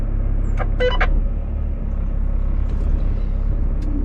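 A 4x4 creeping slowly over off-road ground during a driving lesson, its engine a steady low rumble throughout, with a few brief higher squeaks or clicks near the start.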